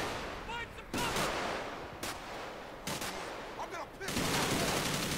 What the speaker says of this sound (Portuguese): Ó, tem alguém atirando meu parceiro.